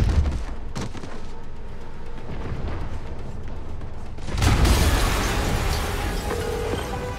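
An explosion in the video game Spider-Man on PS4: a rumbling blast swells into a loud, broad roar about two-thirds through and keeps rumbling afterward, with no speech.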